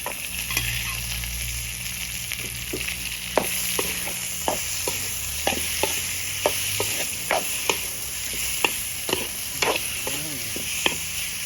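Bottle gourd and pork belly stir-frying in a pan, with a continuous close sizzle and repeated sharp scrapes and taps of a spatula against the pan throughout.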